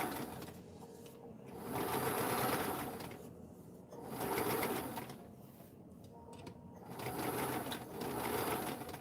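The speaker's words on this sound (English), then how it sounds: "I'm gonna sew this on." A sewing machine stitches fabric onto a padded dress form cover, its motor running in steady bursts of a few seconds each with brief pauses between, close and fairly quiet, with no talking.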